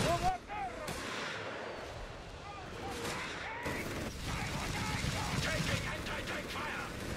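An MG42 machine gun fires in a Company of Heroes 3 match amid dense battle noise, with rattling bursts and booming explosions running continuously under a commentator's voice.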